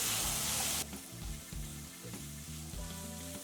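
Brinjal and mixed vegetables fry in a pan for a North Karnataka bajji palya; a loud bright hiss bursts at first, then drops to a lower crackling sizzle with periodic stirring knocks.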